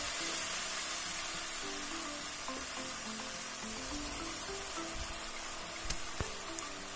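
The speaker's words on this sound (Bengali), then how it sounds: "আমি 2-3 চামচ পায়েস ক্যারামেলের মধ্যে দিয়ে নেড়েচেড়ে মিশিয়ে নিলাম।" Caramel and a few spoonfuls of Bangladeshi rice pudding sizzle in a pan while being stirred together, a steady hiss with soft clinks near the end, under faint background music.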